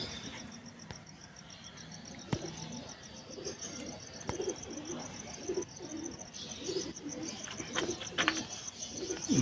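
A male and female pigeon pair coo softly and repeatedly nearby, low throaty calls recurring through the clip with faint chirps and light background noise, no speech.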